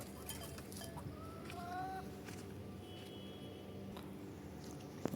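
Chickens in a coop cluck and chirp softly over a low background hum, a few short calls rising and falling, faint and fairly close.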